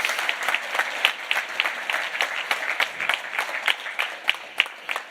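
Conference audience applauding after a talk at a Zabbix Summit, steady dense clapping with sharper individual claps standing out, sustained for several seconds at moderate level with no voices.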